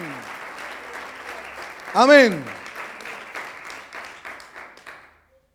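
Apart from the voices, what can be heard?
church congregation applause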